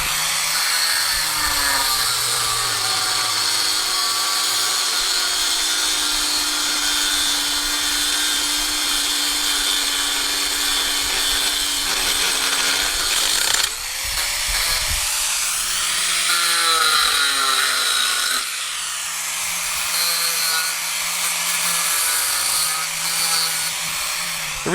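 A power tool cuts through a car bumper on a DIY vehicle restoration, a loud, sustained whining grind close by that holds steady, drops and shifts pitch partway through, then resumes at a slightly different tone.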